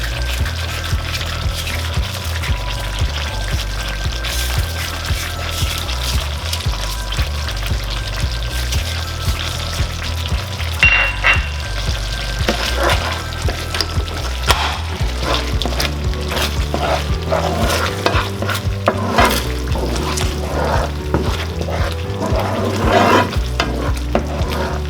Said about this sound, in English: At this point, you want it to simmer.